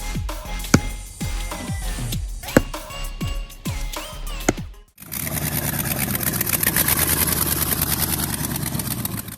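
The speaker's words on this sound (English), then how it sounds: "At the heart of it is a modified Packard engine, known for its strength and strong pulling power." A modified Packard engine fitted with Volkswagen carburetors fires with a few loud cranking pulses, then catches and runs as a dense, rapid, loud mechanical clatter.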